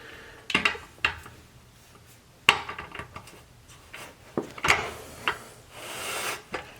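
A bypass sliding door from an Amazon/Home Depot kit, fitted with a soft close add-on, is shifted on its track: several sharp wooden clunks and knocks spaced irregularly, with scraping and rubbing between them, close up and without speech.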